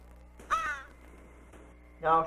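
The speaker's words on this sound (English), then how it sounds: "She hardly noticed the call of a crow at first." A crow caws twice, a harsh call near the start and another about two seconds later, fairly close and loud against a quiet background.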